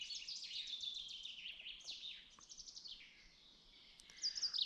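Birds sing outdoors in a forest, with faint, high chirps and warbling phrases that repeat through quiet surroundings, and no voices.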